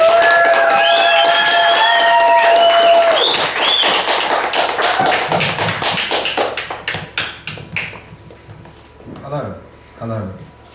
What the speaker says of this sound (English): give a massive round of applause for Leon Lazarus